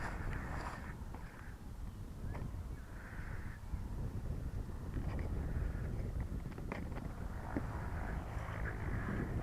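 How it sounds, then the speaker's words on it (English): Gusty outdoor wind rumbles steadily against the microphone at a flying session for a rubber-powered Guillow's Spitfire model plane, with crows cawing repeatedly in the background. "Wind's getting up and down again now"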